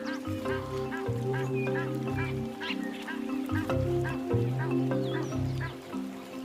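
Water birds calling along the shallow Luvuvu river in Africa, repeated loud honking and quacking calls in uneven bursts close by, several birds overlapping with no voices.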